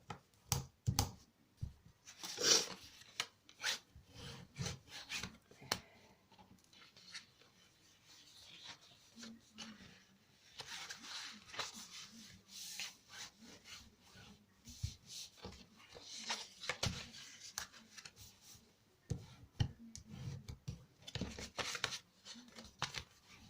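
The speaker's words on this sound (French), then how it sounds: "je marque tous mes plis avec mon plioir" Quiet, repeated rubbing and scraping strokes of a bone folder pressed along folds of textured paper, intermittent over a long stretch, with soft handling noises between.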